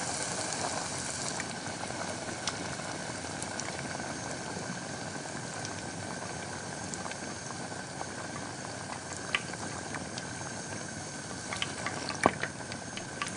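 A kunafa ball with cream filling fries in hot oil, giving a faint, steady bubbling hiss that runs throughout, with a few small pops and crackles toward the end.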